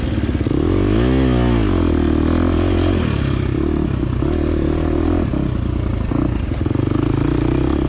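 Dirt bike engine racing on a wooded hare scramble course, a 2023 KTM 350 XC-F: loud, close, continuous four-stroke drone with revs swooping up and down, clattering and scraping over rough ground throughout.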